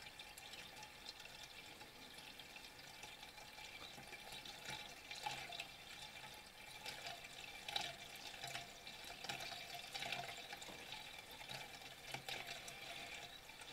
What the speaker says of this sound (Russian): Снегоход как стоял, в таком же положении и заправляем.